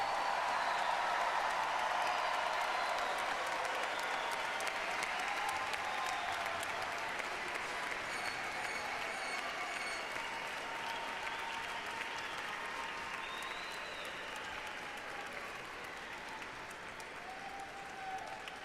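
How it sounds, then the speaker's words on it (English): A graduate commencement crowd gives dense, continuous applause for 2019 graduates, with a steady wash of many hands that eases slightly toward the end. "Please give a round of applause to all graduates"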